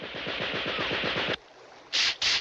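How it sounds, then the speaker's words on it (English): Rapid rattling bursts of Gatling gun fire in an animated action scene, a fast even volley lasting over a second, followed by a brief pause and two more short loud blasts. "I'll man the Gatling gun."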